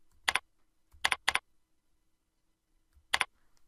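Short bursts of keystrokes on a computer keyboard as a table name is typed, three quick groups of two or three clicks separated by pauses, close and crisp in a quiet room.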